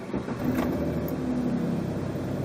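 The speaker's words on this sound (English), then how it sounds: "when you start the car" A car engine is started during a car battery test and settles into a steady running hum, close and loud throughout, with no talking.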